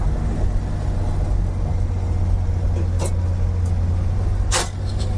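Old car driven for the first time since 1991, its engine a steady low rumble throughout with gears grinding from unsynchronized shifts, a couple of brief sharp bursts near the end.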